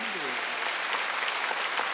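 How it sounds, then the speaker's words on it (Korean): A church congregation at a Wednesday worship service breaks into steady applause, a dense, even patter of many hands that fills the room throughout, with a brief trace of voice at the very start. "박수 한번 드렸어요."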